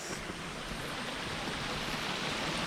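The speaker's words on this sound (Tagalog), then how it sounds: "Yung ragasa ng tubig na naririnig natin, hindi galing sa falls. Dito sa irrigation." Water rushes steadily through an irrigation channel near a waterfall, a dense, even roar close by with no breaks and no voices.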